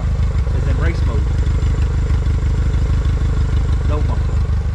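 A Honda buggy engine with the muffler removed idles and revs close by, a raw, throbbing exhaust with a steady low pulse and brief rising revs, while someone talks over it.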